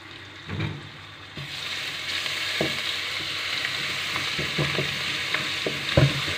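Ginger-garlic paste sizzles and crackles steadily in hot oil, a dense hiss that rises as it hits the pan, with occasional soft stirring knocks.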